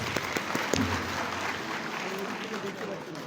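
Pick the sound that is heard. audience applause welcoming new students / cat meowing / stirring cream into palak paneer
audience applause welcoming new students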